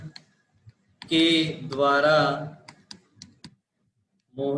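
Computer keyboard typing, a few sparse, sharp key clicks between stretches of someone speaking, then a short run of taps before speech resumes.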